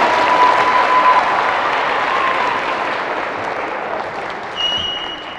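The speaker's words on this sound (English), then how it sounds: "Un aplauso, Isaiah! Come on, give it up!" Sustained applause from a middle school audience in Tucson, Arizona, welcoming a student called up front, a steady dense patter of many hands that holds even throughout and eases slightly toward the end.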